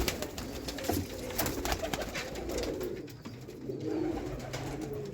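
Rooftop pigeons of the Sialkoti breed coo in low, throaty bursts close by, several birds calling over one another in a steady, overlapping rhythm, with no talking.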